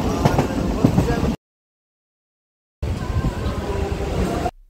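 A passenger train heading towards Namkhana rumbles steadily from inside the carriage, with indistinct voices. The sound cuts out to silence partway through, then resumes.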